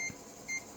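Floppy drive alignment test emitting short, faint electronic tone beeps, two brief beeps evenly spaced within under a second, reporting sectors read per track across both heads.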